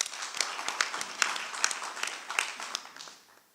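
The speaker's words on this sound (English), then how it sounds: "I think that deserves a round of applause" An audience at a hybrid annual general meeting gives a round of applause for the board, a scattered, moderately close clapping with distinct individual claps that tapers off and fades out toward the end.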